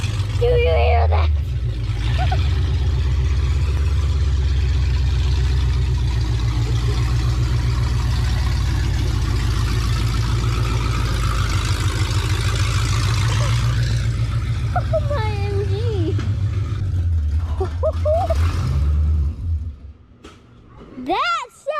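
A Fox Body Mustang 5.0 with open long tube headers rumbles loudly and steadily at close range, a deep throbbing exhaust note holding for about twenty seconds before cutting off, with people talking over it.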